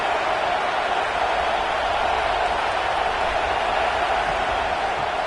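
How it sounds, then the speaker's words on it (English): Dense, steady roar of a large stadium crowd cheering at an LSU home college football playoff game against Clemson, loud and continuous throughout with no individual voices standing out. "It's early, but this crowd is fired up. Listen to this noise here."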